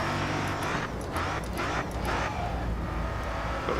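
Race car engine in the Grid Autosport racing game: a continuous loud engine drone with tire and road noise, steady throughout and shifting slightly in pitch, with no talking.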